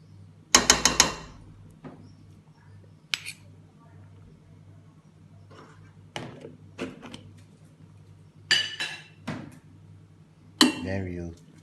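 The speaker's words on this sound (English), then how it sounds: "we are going to now cream our potatoes by adding milk, and some butter" Kitchen clinks and clatters of a pot and utensils come in short, separated bursts over a quiet background while milk and butter are added to potatoes for a Bajan shepherd's pie.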